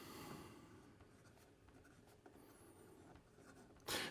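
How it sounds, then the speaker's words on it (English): Leonardo Momento Magico Emerald fountain pen with a medium stainless steel nib writing on paper, faint close-up scratchy strokes with brief pauses, ending in a louder rustle. "Here we go with the writing sample for the Leonardo"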